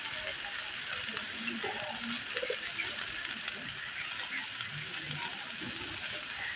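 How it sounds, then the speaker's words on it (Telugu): Bitter gourd pieces fry in a pan with a steady, close hiss of sizzling oil, joined by occasional soft clicks and scrapes of stirring. "కాకరకాయ ముక్కలు కూడా ఫ్రై అయిపోయాయండి"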